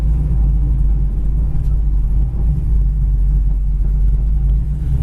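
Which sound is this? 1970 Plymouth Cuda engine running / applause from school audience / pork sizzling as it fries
1970 Plymouth Cuda engine running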